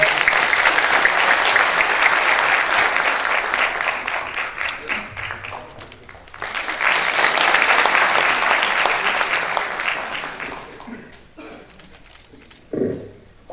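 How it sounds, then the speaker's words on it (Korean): A crowd of young party members at a Democratic Party of Korea youth rally breaks into loud, sustained applause. It fades briefly, then swells again into a second long burst before tapering off to scattered claps. "박수로 맞아주시기 바랍니다"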